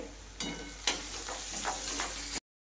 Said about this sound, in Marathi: कांदा 3 ते 4 मिनिटांसाठी मस्त असा लाल होईपर्यंत फ्राय करायचा आहे।